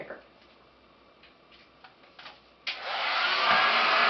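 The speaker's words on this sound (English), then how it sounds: "I'm just going to blow out the bottom part of my hair" A hair dryer on its hot setting switches on partway through and blows steadily and loudly while drying the bottom section of hair during a blowout, after a few quiet handling clicks.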